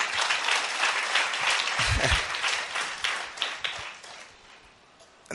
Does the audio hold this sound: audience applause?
yes